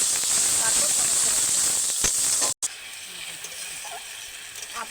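Chopped onion and tomato paste fry together in a pan with a steady, bright sizzling hiss that cuts out briefly, then continues more softly.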